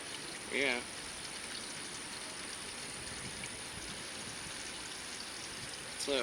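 Garden watering outdoors, with a soft, continuous stream of flowing water heard throughout and brief, louder chirping bursts near the start and end.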